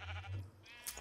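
Sheep in Minecraft bleat in the blocky game world, a short wavering low cry lasting about a second, moderately loud and heard alone without talk.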